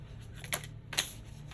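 Tarot cards are being shuffled nearby: two quick crisp riffling bursts about half a second apart over a faint steady hum.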